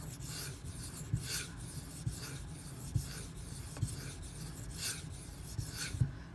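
Knife blade rubbed on a Shapton Kuromaku 1500 grit whetstone, a close rhythmic rasping scrape repeated in regular strokes about once a second, with soft thuds at each stroke turn.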